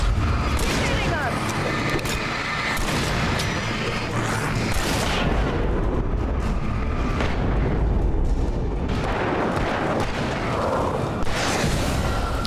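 Flashbang blasts and combat in the horror action game Alan Wake Remastered: repeated loud booms and cracks pile up over a dense, rumbling background, with voices shouting among the explosions throughout.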